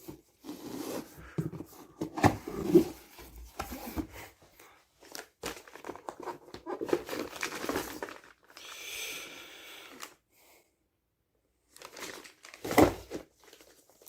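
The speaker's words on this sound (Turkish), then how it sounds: "Şimdi kutumuzu açalım." Cardboard box of an MSI MAG B760 Tomahawk motherboard being opened up close, with crinkling, rubbing and tearing of cardboard and packing in irregular bursts separated by brief quiet pauses.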